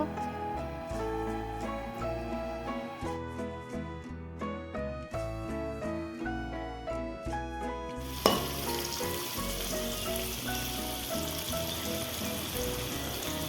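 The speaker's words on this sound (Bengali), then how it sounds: "এখানে আমি আলুগুলোকে লাল লাল করে ভেজে তুলে নেব।" Potatoes frying in oil for a home-cooked rainy-day meal, with background music playing throughout; a broad, loud sizzle swells up after a sharp clatter partway through and continues steadily to the end.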